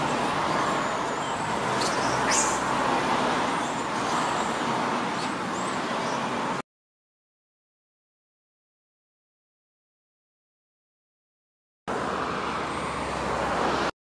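Traffic on a busy highway, a steady loud roar of passing cars and road noise that cuts out to silence midway and then resumes briefly near the end.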